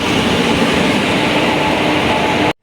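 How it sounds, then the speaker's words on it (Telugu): A train arriving, rumbling loudly nearby, a continuous heavy roar of rail noise that cuts off abruptly at the end. "ఫైనలీ ట్రైన్ వచ్చింది"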